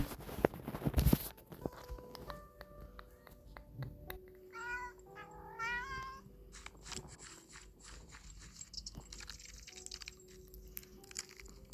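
A real cat meows in several short, rising calls while climbing, with scrabbling claws and soft thumps of movement, faint beeping and background noise throughout.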